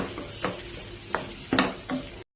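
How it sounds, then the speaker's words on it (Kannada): Bitter gourd frying with tomato and onion in a pan: a steady low sizzle broken by four short scraping stirs at irregular intervals, close and moderately loud with no voices. "ಸೊ ಹಾಗಲಕಾಯಿ ಆ್ಯಡ್ ಮಾಡೋಣ"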